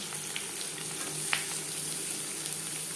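Chopped onion frying in mustard oil for a mutton liver and potato curry, a steady close sizzle and crackle with faint stirring scrapes, no talking.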